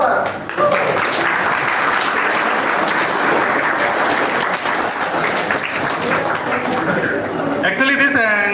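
Audience applause at a mathematics workshop, a long continuous burst of many hands clapping, loud and close, with a voice breaking in near the end.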